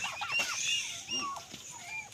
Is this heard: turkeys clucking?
yes